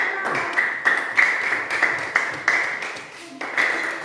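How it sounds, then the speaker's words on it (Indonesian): Classroom applause as students clap together, a dense patter of hand claps with several sharper bursts, fairly close and steady over a few seconds, with no talking. "Tepuk aplausnya."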